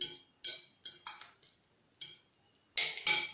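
A spoon scrapes and clinks against a bowl while mango avocado salsa with coriander is mixed, six or seven short, crisp knocks spaced irregularly with quiet gaps between them and no voices.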